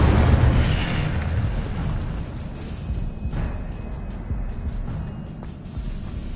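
The Incendio fire spell being cast in Hogwarts Legacy: a loud, broad whooshing burst of flame at the start that roars and then fades into a crackling, rumbling tail, with a few faint pops and clicks later on.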